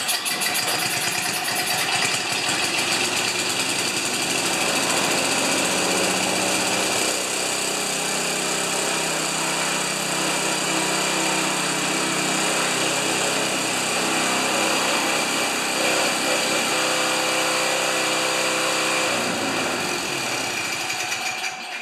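John Deere TRS 24 snowblower engine running loud and steady for about twenty seconds, a continuous high-revving small-engine drone with a slight shift in pitch near the end, heard alone without talk.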